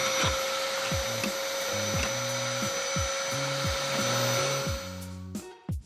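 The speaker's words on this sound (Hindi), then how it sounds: "उन दोनों को वैक्यूम क्लीनर नहीं पसंद होते" A household vacuum cleaner runs with a loud, steady motor whine and droning hum, joined by a rhythmic thumping pattern, before cutting off near the end with a couple of knocks.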